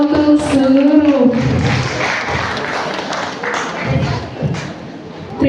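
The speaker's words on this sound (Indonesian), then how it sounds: "Beri tepuk tangan sekali lagi yang meriah untuk seluruh." Applause from an audience at a regional working meeting, a steady wash of clapping heard under an announcer's voice that carries on through the first part.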